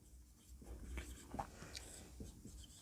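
Marker or chalk writing on a classroom board during a physics lesson, a faint scratchy stroking that comes in short bursts over a low hum, with no talk.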